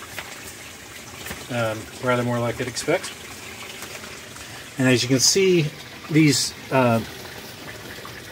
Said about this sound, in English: and now the water's flowing in